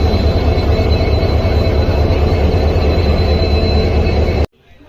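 A train stands at a railway station on the Malda Court to Jogbani route, its wheels squealing in a loud, steady rumble and screech that cuts off abruptly near the end.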